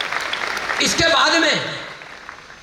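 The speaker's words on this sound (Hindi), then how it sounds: "ताली बजाओ बच्चे के लिए" An audience at a CUET coaching rally claps for a student, a brief burst of applause that fades as someone speaks loudly over it into the microphone.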